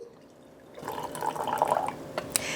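Freshly boiled water is poured into a small jar for making tea, starting after a quiet moment as a rising liquid splash and trickle, close and moderately loud, with a couple of sharp clinks near the end.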